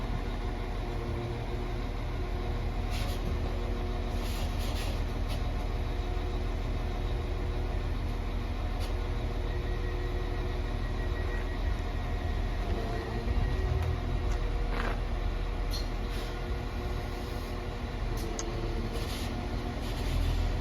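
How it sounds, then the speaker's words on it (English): A Northern train service to Lincoln Central at Meadowhall station gives a loud, steady low rumble of idling engines that runs the whole time, with faint clanks and squeals at times and no talk. "And we finish off with the 12:30 Northern train service to Lincoln Central."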